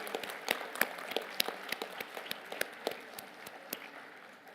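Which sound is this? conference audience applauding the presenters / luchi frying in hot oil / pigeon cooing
conference audience applauding the presenters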